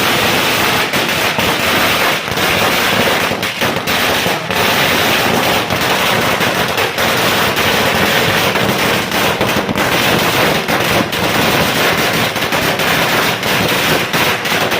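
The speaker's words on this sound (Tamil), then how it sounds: "வெடி பார்த்தீங்கன்னா சட சட சட சட சடன்னு சூப்பராக வெடிச்சது" Diwali string firecrackers burst in a dense, continuous crackle of rapid pops, loud and close, with no pause for the whole stretch.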